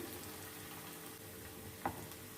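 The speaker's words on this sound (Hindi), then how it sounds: "फुल ऑयल को गरम करके हमने कबाब को फ्राई कर लेते हैं।" Rice kebabs frying in hot oil, a faint, even crackling sizzle throughout with a single soft tap near the end, quiet and without talk.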